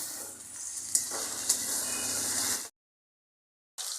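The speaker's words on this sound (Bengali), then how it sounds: "এবার দিয়ে দিচ্ছি পেঁয়াজ কুচানো এবার দিয়ে দিচ্ছি আদা বাটা আর দিয়ে দিচ্ছি টমেটো" Chopped onion, ginger paste and tomato sizzle loudly in a hot pan with oil, a steady hissing fry with a couple of sharp pops, cut off abruptly for a second before the sizzle resumes.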